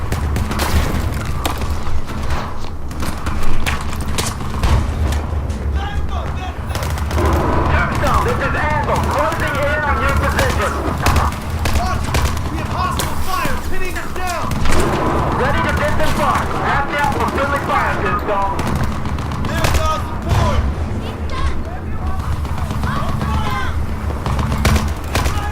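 In Battlefield 4, during a Singapore mission on hard difficulty, game gunfire and booming explosions keep up a dense, loud, continuous battle din while someone talks over it throughout.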